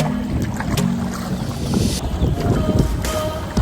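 Boat motor drones steadily on open water in El Nido, Palawan, with wind buffeting the microphone and water rushing past throughout.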